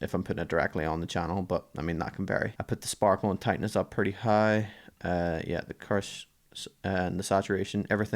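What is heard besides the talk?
No everyday noise stands out behind the speech.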